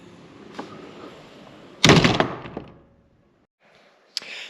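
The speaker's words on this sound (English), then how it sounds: "it's quite a heavy door actually" A heavy door of a thirteenth-century church swings shut with a loud wooden thunk and rattling latch, followed by a short creak and quiet, then a small clack near the end.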